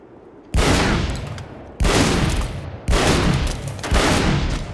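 A shotgun in a first-person shooter fires four heavy, booming blasts in a slow, even rhythm, each one hitting enemies and trailing off in a long ringing decay.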